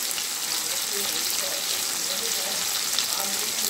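Capsicum fries with salt in a pan for chili chicken, giving a loud, dense, continuous sizzle close by, with faint voice traces.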